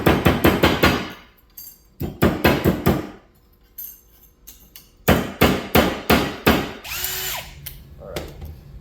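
Repeated hammer blows flatten a copper tube, loud sharp strikes in quick bursts of about six, separated by pauses, with a rattling tool sound near the end.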